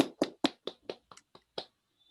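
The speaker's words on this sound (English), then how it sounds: "Official applause." A handful of scattered hand claps, about eight sharp separate hits, close and fairly quiet, thinning out and stopping after under two seconds to mark the end of a talk on economic democracy.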